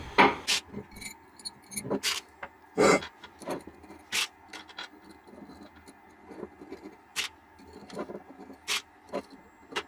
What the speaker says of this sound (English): I'm just gonna put quickly some bolts in and bolt this one down also.